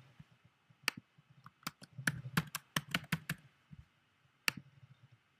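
Keys clatter on a Mac keyboard in irregular quick bursts as a password is typed, with one heavier key tap near the end, close and quiet in a still room.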